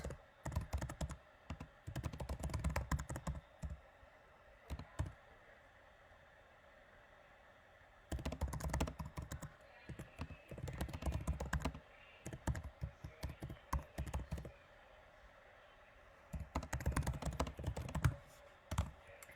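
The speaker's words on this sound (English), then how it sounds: "I'm actually going to type that up" Typing on a computer keyboard comes in bursts of rapid, light clicks with short pauses between them, close and quiet against a faint steady hiss, with no voice over it.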